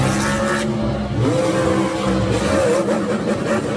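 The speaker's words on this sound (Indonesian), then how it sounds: "mobil monster" A toy monster truck sound effect with a loud, rough engine roar and revving, warbling pitch sweeps like tires squealing, continuous and close.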